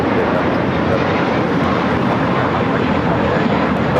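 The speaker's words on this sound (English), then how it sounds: "This is JetBlue Flight 100 taking off to Fort Lauderdale on the A321" A JetBlue Airbus A321 on its takeoff run at LAX, bound for Fort Lauderdale, gives a loud, steady, close engine roar that holds evenly from start to finish.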